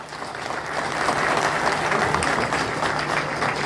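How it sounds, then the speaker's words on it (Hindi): Steady applause from a crowd at a political party launch event in Kushinagar, India, dense and sustained clapping throughout at an even, fairly loud level. "अभिवादन को आप सभी कतरबद्ध तरीके से तालियों के साथ उनका स्वागत करिए, इंजीनियर मनोज सिंह जी का"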